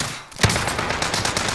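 An AS Val rifle firing in a video game, a short burst of suppressed rapid shots following one sharp crack, close and steady for about a second.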